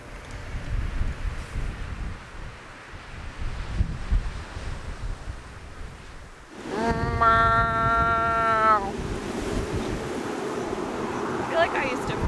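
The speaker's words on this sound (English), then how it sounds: "We're at a scenic overlook of the ocean." Ocean surf at a scenic overlook on Hawaii's Big Island, a steady broadband wash mixed with wind buffeting the microphone, with a brief voice partway through.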